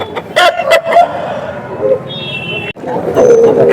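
Tamil Nadu breed fighting roosters at the Bairreddipalli poultry and sheep market give brief clucks and calls amid steady crowd chatter and market bustle, with people talking throughout.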